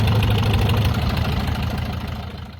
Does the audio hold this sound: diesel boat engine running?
yes